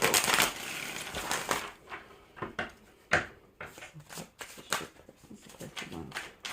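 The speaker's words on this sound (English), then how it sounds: "I don't like when my deck flips when I'm shuffling" A deck of cards is shuffled by hand during a pick-a-card reading. Loud riffles and rustles come close and irregular, with brief pauses and some speech around them.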